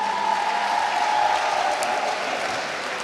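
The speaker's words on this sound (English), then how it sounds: "Can we please give another round of applause to Paso and Khomoto?" An audience at a live afternoon event applauds, a dense, steady wash of clapping from a crowd that holds strong and slowly tapers near the end.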